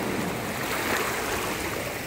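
Sea surf at a beach resort washes in a steady broadband rush, continuous and close with no breaks or voices.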